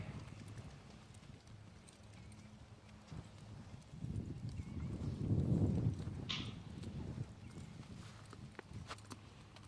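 A horse moving in a smooth shuffle gait, soft irregular hoofbeats on the ground, faint and fairly close, with a breezy background and a brief louder patch midway.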